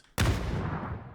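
A grenade explodes in the video game PUBG, one sudden heavy blast that cuts in abruptly and then rumbles away in a long, slowly fading decay.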